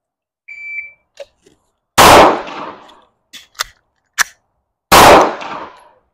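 Two loud, sharp pistol shots ring out about three seconds apart during a one-reload-one shooting drill, separated by a timer beep and metallic clicks and clacks of a magazine reload.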